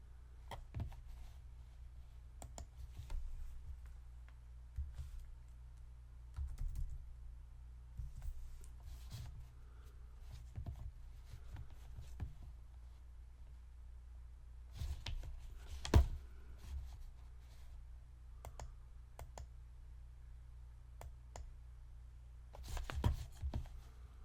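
Soft, scattered mouse clicks tap irregularly in a quiet room, with a few sharper clicks standing out now and then.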